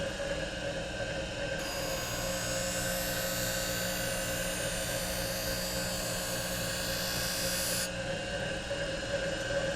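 A skate sharpening machine hums steadily, then its grinding wheel shrieks against a figure skate blade for about six seconds in a continuous high whine before it eases off to the motor hum.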